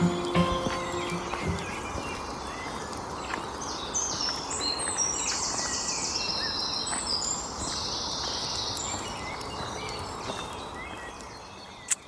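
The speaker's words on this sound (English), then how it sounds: "the birds are so amazing this morning" Morning birdsong rings out in chirps and bright trills over a steady outdoor bed of insect-like buzzing, with no talking and a sharp knock near the end.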